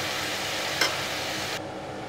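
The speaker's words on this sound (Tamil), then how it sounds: "இப்போது இது எல்லாத்தையுமே வந்து நல்லா பிரட்டிக்கிறேன்" Brinjal gravy is stirred in a pan with a steady close sizzle and a single brief scrape partway through, after which the hiss drops to a quieter bubbling.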